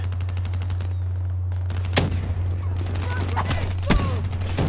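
Rapid, continuous bursts of automatic gunfire from the CUDA weapon in Call of Duty Black Ops 3 multiplayer, with a couple of louder sharp shots standing out over steady game background noise.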